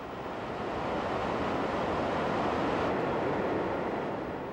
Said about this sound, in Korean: 깊은 협곡을 만나 최고 높이 150m로 떨어지는 빅토리아 폭포